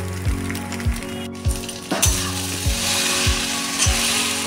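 Chicken chow mein sizzling in a hot pan as masala is sprinkled over it, a steady loud fry with a regular scraping stir clicking roughly twice a second.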